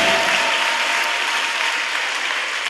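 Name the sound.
congregation applauding and cheering for the Lord Jesus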